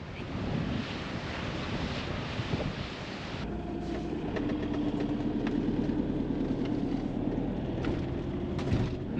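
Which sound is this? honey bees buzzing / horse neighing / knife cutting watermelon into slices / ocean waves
ocean waves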